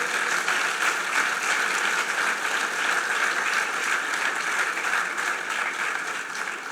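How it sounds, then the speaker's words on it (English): A crowd at an anniversary event applauds in dense, sustained clapping from many hands that fills the room evenly from start to finish. "On va vous applaudir"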